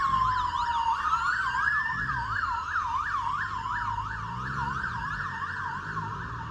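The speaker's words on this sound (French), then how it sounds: "c'est le bruit des sirènes, des ambulances et de la police" Wailing ambulance and police sirens on a London street, several overlapping tones sweeping up and down continuously over low traffic rumble, fairly close and loud throughout.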